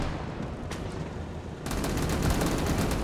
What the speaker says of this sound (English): These 50 cals are delivering